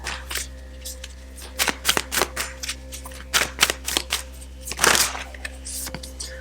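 A deck of oracle cards is shuffled by hand, giving a run of crisp riffling snaps and slaps in irregular bursts over a low steady hum, close by and fairly loud.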